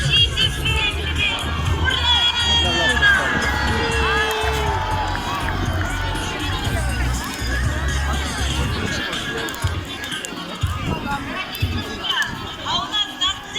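A crowd at an outdoor winter farewell festival with a bonfire and fire show, shouting and cheering together in a dense, steady roar with children's voices and scattered chatter.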